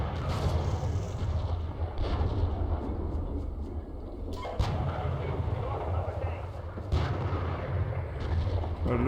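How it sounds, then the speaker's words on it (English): Tank and artillery fire thunders continuously in the Steel Beasts Pro combat simulation game, with repeated heavy booms over a dense, rumbling battlefield din and a voice talking over it. "That's some exchange of fire that I am really liking."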